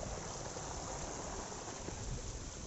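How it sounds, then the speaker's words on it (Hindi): Steady, faint broadband rush of a small waterfall and stream flowing at Nalabon, continuous and even without any talk. "ये उतना बड़ा झरना नहीं है वैसे, लेकिन ये काफ़ी खूबसूरत झरना है"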